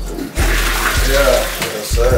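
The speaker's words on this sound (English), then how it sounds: "That's called an end wall toilet tank." End wall toilet tank flushing: loud rushing water with gurgles and swirls that swells and dips, with brief thumps between surges.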